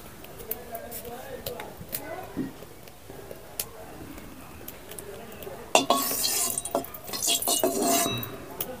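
A dish being mixed in a pan before fish goes in, with spoon clinks and scrapes against the metal, growing busier and louder toward the end, with a voice talking over parts of it.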